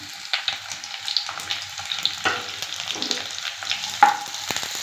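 Close, crackling sizzle of onions frying in hot oil, stirred with scraping utensil strokes and a few light clinks, no voices.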